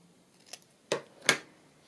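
Scissors trimming paper for a journal, making three crisp snips close by, a faint one followed by two louder cuts about a third of a second apart, in a quiet room.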